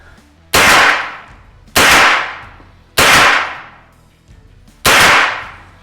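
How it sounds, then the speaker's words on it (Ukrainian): Four loud gunshots spaced about a second apart, each followed by a long reverberant decay, with nothing else heard. "Ну ось так звукорежисери стріляють."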